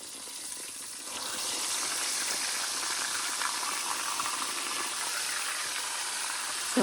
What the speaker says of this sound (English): So I'm frying up the pork chops in batches